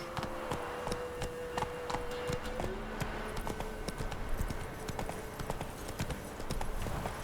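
Horse hooves clip-clopping at a steady trotting rhythm in The Witcher III, repeated clear hoof strikes over a soft ambient hum, moderately close and continuous.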